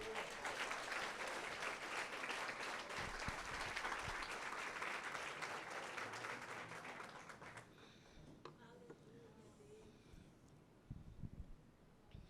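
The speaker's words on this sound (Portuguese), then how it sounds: "Você pode aplaudir ao Senhor?" A congregation at a Brazilian evangelical church applauds in a dense, sustained wave of clapping that fades after several seconds, leaving quieter scattered sounds and a brief final burst.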